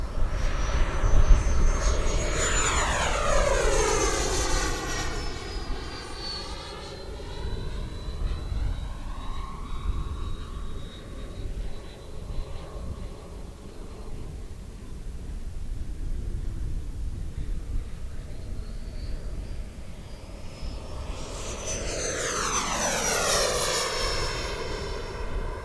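An FMS Super Scorpion V2 90mm EDF RC sport jet flies passes, its ducted-fan whine sweeping loud and close at the start, fading to a distant hum mid-clip, then sweeping past again near the end.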